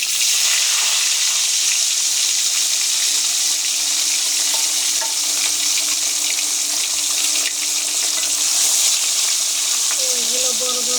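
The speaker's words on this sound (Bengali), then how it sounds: "তো বন্ধুরা, কড়াই গরম হয়ে গেছে, এখন আমি মাছ দিয়ে দেবো।" Kalbaus fish pieces go into hot oil in a kadai and fry with a loud, dense, unbroken sizzle that carries on close up throughout.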